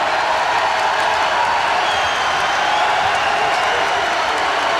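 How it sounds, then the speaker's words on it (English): A dense basketball arena crowd cheers and claps at a 1998 Indiana versus Ohio State college game, a continuous loud roar filling the whole stretch without letting up. "And this crowd still excited about that last play."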